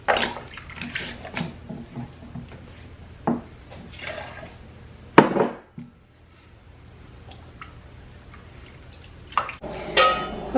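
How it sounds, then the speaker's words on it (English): Water runs and splashes into a canner pot holding jars of lime pickles, with intermittent pouring and dripping bursts, clinks of jars against the pot, and a quieter lull before the splashing resumes. "The water's filled up over the top of the jars and the lids."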